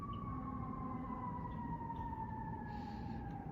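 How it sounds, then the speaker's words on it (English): Emergency vehicle siren wailing outdoors, a steady drawn-out tone drifting slightly lower in pitch, faint and distant throughout. "I don't like the sirens"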